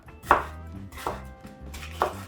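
Bell pepper cut into large pieces with a knife on a board, three crisp, evenly spaced chops close by with a low hum between them.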